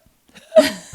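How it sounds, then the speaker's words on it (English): A single short hiccup from a young child, a quick gulping catch of breath, brief and fairly close, in an otherwise quiet moment. "he just developed a nasty case of the hiccups"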